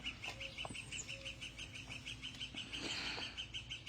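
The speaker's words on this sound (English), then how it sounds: "Birds are so beautiful." Outdoors, a bird repeats a high, evenly spaced chirp throughout, fairly quiet and steady, with a few other faint calls and soft ambient noise around it.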